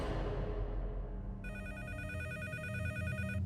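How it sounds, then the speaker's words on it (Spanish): A telephone rings in the small hours, its repeated electronic trill starting after a second of low background rumble and continuing steadily, fairly clear over a dull ambient hum, with no talking. "Y en la madrugada mi teléfono sonó."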